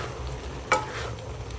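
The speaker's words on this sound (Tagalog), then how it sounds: "ihalo muna natin." A single quick scrape of a utensil stirring Kapampangan kilayin stew inside a pot over a soft bubbling, sizzling background, close by.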